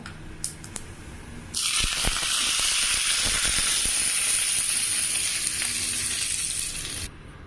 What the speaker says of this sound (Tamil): கருவேப்பிலை போட்டு தாளிச்சிடலாங்க.